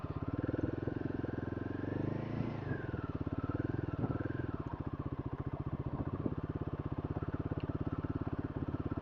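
A motorcycle rides a rough adventure trail toward Mahithapuram Waterfalls, its engine thrumming steadily and close with pulsing rhythm and rising, falling revs throughout.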